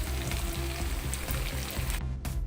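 Shrimp paste (bagoong alamang) frying with garlic and chilies in a pan, a continuous close sizzle with faint stirring, no speech.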